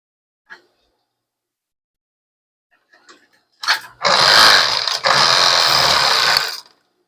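A sewing machine stitches the strap of a simple casual dress in one loud, steady run of about three seconds with a brief pause midway, after a few faint handling taps.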